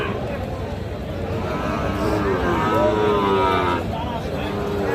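Drawn-out mooing from Sahiwal bull calves rises over a busy outdoor cattle market background, with a murmur of people talking underneath.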